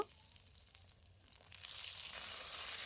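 Long-cut eggplant slices dropped into hot oil left from frying fish: after a quiet moment the oil bursts into a loud, steady sizzle that holds to the end.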